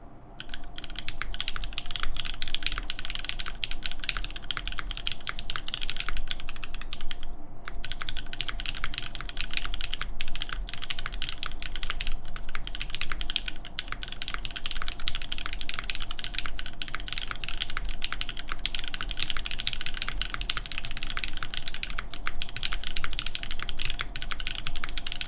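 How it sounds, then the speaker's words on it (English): Steady close typing on a Machina Cloudnine full-aluminium mechanical keyboard with MX Black switches, a dense continuous patter of keystrokes with a low hum beneath and no speech. "here's me typing on MX Black Full Alu."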